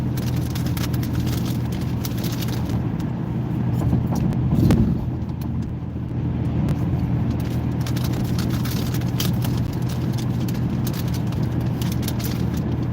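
A car cruises at about 55 on a small highway, giving a constant low road and engine rumble with wind hiss, a brief swell midway like a passing vehicle, and no speech.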